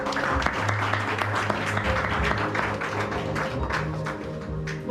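Church congregation applauding a woman after her testimony, a steady wash of many hands clapping indoors for several seconds with a low hum underneath, no voices over it.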